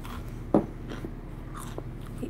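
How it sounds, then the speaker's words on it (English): A single sharp, close crunch of a bite into potato chips, brief and crisp, followed by quiet background hum with faint soft chewing. "you are eating chips again"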